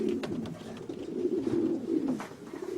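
Pigeons cooing close by, a low soft throaty warble repeating steadily with a few faint higher chirps, with no voices present.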